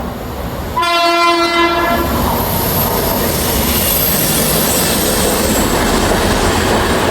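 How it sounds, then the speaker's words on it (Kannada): Passenger train at a railway station sounding a loud horn blast for about a second, then rushing past with a heavy roar and rattling wheels that continue at close range. "ಎಷ್ಟು ಟ್ರೈನ್ ಬಂತು"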